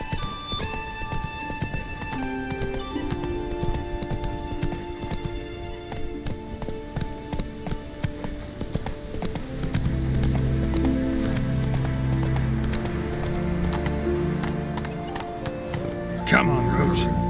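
Roach, a horse in The Witcher 3, galloping with a quick rhythmic clip-clop of hooves that grows heavier and closer toward the end, under a voice and background music.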